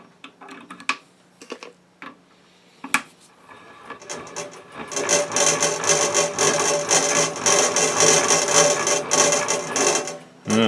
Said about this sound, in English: Sorry about the rattling. I got some squares hanging from a magnet strip.